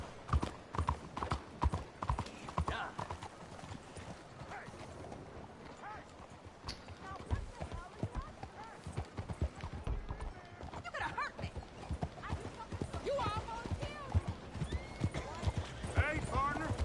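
Hooves clip-clop steadily as a horse is ridden through a cramped town in a video game, with occasional whinnies and a voice talking over the rhythmic footfalls.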